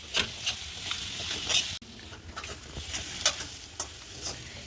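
Steady sizzling of potatoes frying in a pan, with scattered crackles and scraping stir sounds throughout, no talking.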